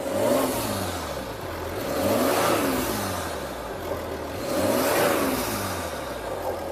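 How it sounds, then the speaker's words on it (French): A 3-litre twin-turbo V6 engine on a luxury car revs up three times from idle, each throttle blip rising and falling in a smooth, loud swell close by. "Mets un peu les gaz qu'on l'entende ronronner."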